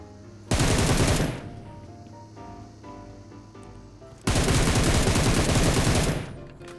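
Rapid automatic gunfire aimed at a car in the mobile battle-royale game PUBG Mobile comes in two long, loud, close bursts separated by a few seconds of quieter game ambience.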